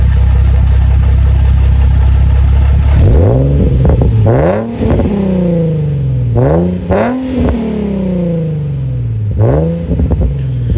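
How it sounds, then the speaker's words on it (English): A Nissan 350Z with a loud aftermarket exhaust idles with a deep rumble, then revs sharply several times in quick, raspy bursts close by. "it sounds like a 350Z with a aftermarket exhaust."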